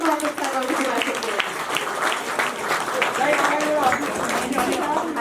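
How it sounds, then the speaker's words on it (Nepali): Applause from an audience at a book launch, a dense, sustained patter of many hands clapping together at moderate loudness without a break. "एकपल्ट जोरदार तालीको अपेक्षा गर्दछु"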